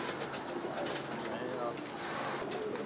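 Domestic pigeons cooing steadily in a rooftop loft kept for kabootar bazi pigeon flying, soft repeated coos close by with faint talk in the background.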